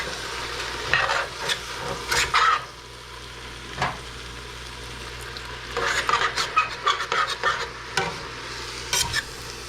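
Vegetables for a root vegetable soup are stirred and scraped around a pot to lift the fond, with clustered scraping and light sizzling strokes that come in bursts and pause between, close by with no talk.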